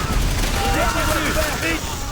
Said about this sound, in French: Mitrailleuse japonaise!